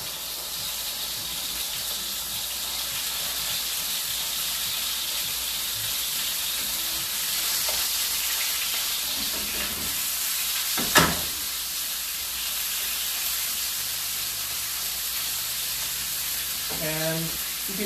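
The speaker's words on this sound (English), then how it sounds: "So first thing I'm gonna do is I'm gonna cook off the turkey." Ground turkey sizzles in a hot pan, a steady soft frying hiss, with a sharp clatter midway and a few faint knocks and scrapes near the end.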